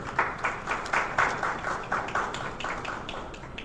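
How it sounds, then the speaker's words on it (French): An audience at a formal event applauds, with steady scattered clapping that has a distinct rhythm. It sounds fairly soft and somewhat distant, and no talking is heard. "Je vous demande de les applaudir"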